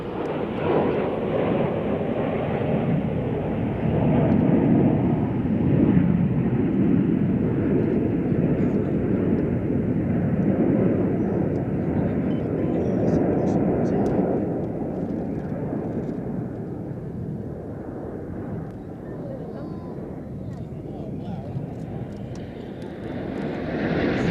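Red Arrows aerobatic jets at the Sywell Air Show roaring overhead in a display pass, a loud sustained engine roar that swells and slowly fades as the aircraft pull up and roll away.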